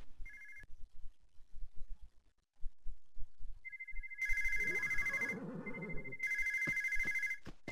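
A telephone rings in the horse-riding video game Alexandra Ledermann, with repeated electronic ring bursts separated by short pauses alongside soft game background sounds.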